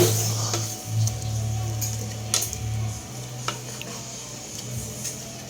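Squid adobo with lightly boiled shrimp being stirred in a pan, with soft scraping and occasional utensil clicks over a steady low kitchen hum.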